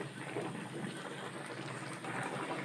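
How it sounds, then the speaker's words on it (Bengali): A pot of spinach curry for tangra fish comes to a full boil, giving a steady, dense bubbling and simmering hiss close by with no voices. "তরকারি বলক চলে এসেছে, দেখতে পাচ্ছেন।"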